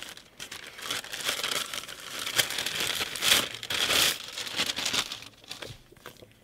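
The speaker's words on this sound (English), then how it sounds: "This is the book I bought her. I'll unwrap it for you quickly." A gift-wrapped book is unwrapped, with close crinkling of wrapping paper and several rough tearing bursts that swell and fade before the rustling stops near the end.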